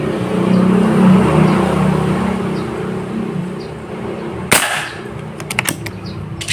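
A single sharp gunshot cracks during a target shooting session, fired at a range, followed by a few fainter clicks and mechanical noises over steady loud outdoor background hum.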